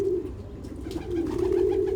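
Soft, repeated pigeon coos sit steadily over a low background rumble during bird trapping, with faint rustling that could be wing flaps.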